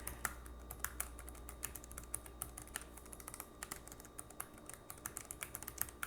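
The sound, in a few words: typing on a quiet mechanical-switch keyboard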